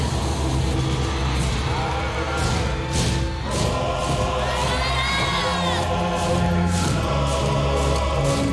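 A large crowd cheers and whoops as an army marches in, steady roaring voices layered over music, with scattered shouts and a rising whistle-like cry midway, loud and sustained.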